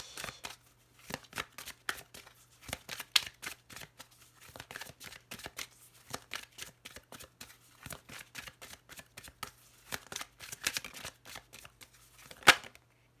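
Lenormand cards are shuffled and drawn by hand, giving rapid irregular flicks and riffling slaps, close and fairly quiet, with a faint steady hum underneath.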